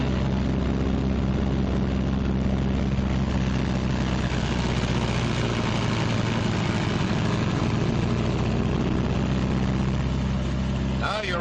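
The engines of a B-26 airplane are run up together, giving a steady, dense engine drone with a low throbbing rumble that stays loud throughout. A voice may talk faintly beneath the noise.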